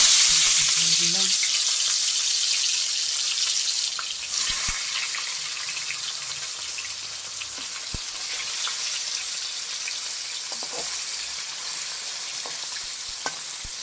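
Tilapia pieces fry in hot oil in a pan with a loud, steady hiss and crackle that fades slightly over time, broken by a few small clicks and pops.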